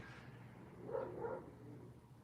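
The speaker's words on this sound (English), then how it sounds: "The neighbor has a dog next door." A neighbor's dog barks next door, a couple of muffled, distant yips in the middle of a quiet, steady background hum.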